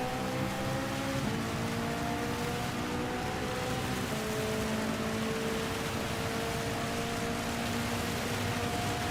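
Rain falls in a racing game at the Red Bull Ring under Nations Cup conditions, a steady hiss of rain beneath the tonal whine of race car engines, with one engine note shifting pitch and the others sustained.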